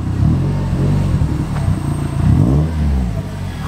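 A Subaru WRX fitted with equal length headers revs close by with a low, loud rumble, rising and falling through a few throttle blips.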